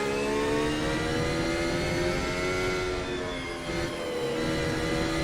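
Formula One car engine in a racing video game holds a steady high-pitched whine at full throttle on the straight at Japan, with layered harmonic tones and a brief dip before climbing again, loud and close with no talk.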